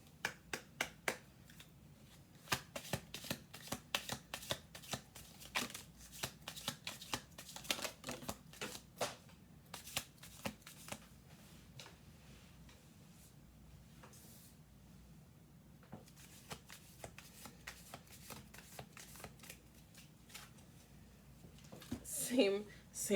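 Tarot cards shuffled close by in quick riffling bursts and scattered soft slaps, fairly quiet, pausing now and then, with a denser flurry near the end.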